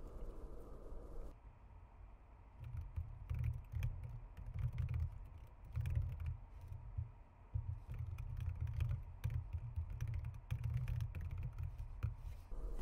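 Someone types a message on a computer keyboard, producing close, irregular bursts of light key clicks over a low hum, with no one speaking.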